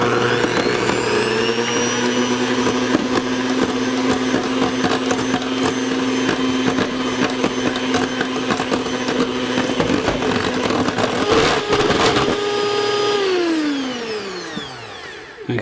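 An electric mixer whips egg whites for a raspberry meringue with a steady, loud motor whine that holds for a long stretch. The whine then winds down and stops near the end.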